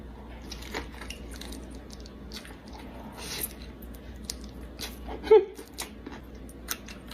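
Loud eating: close, wet biting and squishy chewing of food, with irregular crunchy bites and one sharper snap, over a low constant background hum.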